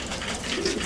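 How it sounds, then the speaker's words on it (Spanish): Racing pigeons being trained for a turf race final give a soft, low cooing that is brief and close, with a faint watery background texture. "Pues ahí están las palomitas."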